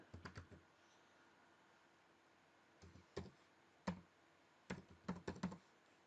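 A password is typed on a computer keyboard, heard as quick bursts of close key clicks: a rapid cluster at the start, then scattered taps and a final flurry after a pause, all in a quiet room.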